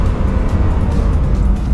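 A Bugatti Chiron decelerating hard on the Nürburgring, a loud, close, continuous low roar of engine and road noise throughout the short burst.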